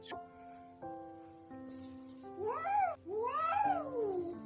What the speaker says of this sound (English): Look, the cat is attacking the cat.